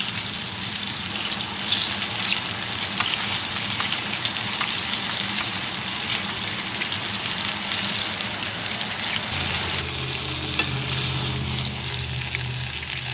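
A London broil steak sears in a pan of hot butter and oil, giving a loud, continuous close-up sizzle and spatter that holds steady throughout with no talking.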